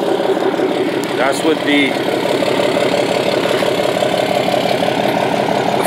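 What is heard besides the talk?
Ram 2500 diesel truck engine idling, 4-inch exhaust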